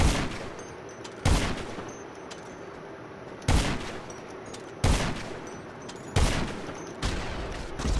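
Gunfire in GTA Online, six sharp broadband shots spaced irregularly about a second or more apart, each with a short decaying tail over a low hum of game ambience, no voices.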